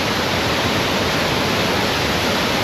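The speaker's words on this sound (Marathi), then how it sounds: "कणकवलीपासून आपण आता इथे सावडाव धबधब्याजवळ आलेलो आहे" Savdav waterfall near Kankavali in Sindhudurg gives a steady, dense roar of falling water, even and unbroken across the whole stretch with no voices.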